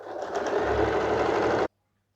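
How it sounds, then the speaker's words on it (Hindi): A sewing machine runs fast and steady, stitching the inner seams of a kurti, a close continuous whirring burst that stops abruptly after under two seconds. "पहले इसकी इनर दोनों पर सिलाई लगाकर हम रेडी कर लेते हैं"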